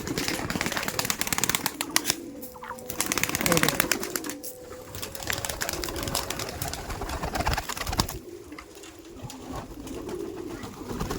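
Kaldom pigeons at a pigeon-keeping farm in South 24 Parganas coo and rustle close by, with a busy clatter of wings and perches and someone talking intermittently over them.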